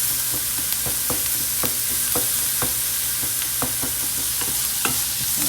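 Garlic sizzles in a pan on medium heat while a utensil stirs it, giving a constant frying hiss with a regular series of scraping taps close by.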